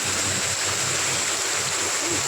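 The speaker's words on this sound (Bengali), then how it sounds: "পুরো জলে জল হয়ে গেছে এখানেই দেখো কতটা জল" Floodwater rushes steadily around submerged house steps, a dense, close, continuous watery roar with no pauses.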